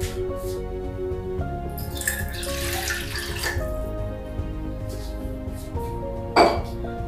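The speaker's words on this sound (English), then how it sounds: "I shall put a little amount of water." Water trickles and splashes as it is poured into a pot on an induction cooker, steady for several seconds, with a hum running underneath and a brief knock near the end.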